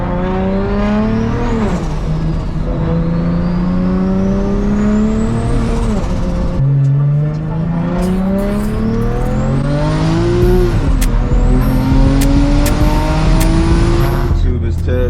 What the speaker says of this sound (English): we're gonna get y'all some POV driving of what it's like to drive a single turbo automatic, or a single turbo M54 with an automatic transmission